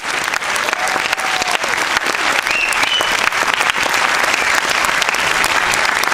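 Audience applause during a Berlinale film festival Q&A, dense and loud, sustained at full strength throughout with faint voices and cheers mixed in.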